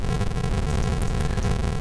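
A synthesizer patch run through a phaser effect gives a dense, steady buzzing tone with a swirling, comb-like sweep, loud and continuous for under two seconds with no talking.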